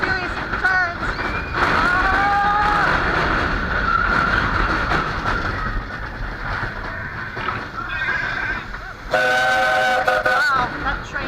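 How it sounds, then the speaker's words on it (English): The Big Thunder Mountain Railroad roller coaster train at Magic Kingdom rumbles and clatters along its track, heard from the front row, with whistle-like squeals and tones rising at moments, and excited riders' voices underneath. "Wow, that train is loud."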